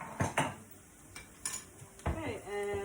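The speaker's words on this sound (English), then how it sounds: "give that a stir" Spoon scraping and clinking against a pot while stirring spiced samp and beans with lamb, a few sharp knocks followed by soft scraping and a faint sizzle, close and fairly quiet with no talk.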